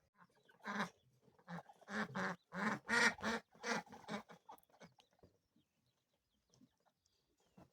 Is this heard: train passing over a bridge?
no